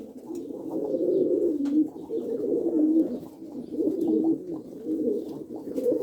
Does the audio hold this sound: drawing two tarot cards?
no